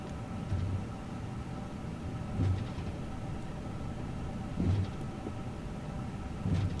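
Jet engines of an Airbus A-series airliner idle as it lines up on runway 09 right at Heathrow in Microsoft Flight Simulator 2024, a steady low hum with soft, regular thumps repeating every two seconds or so.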